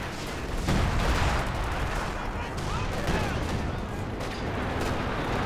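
Heavy battlefield gunfire and artillery from a Company of Heroes 2 match, with dense, continuous bursts and booms rolling together at steady loudness throughout, including Howitzer shelling and anti-tank fire.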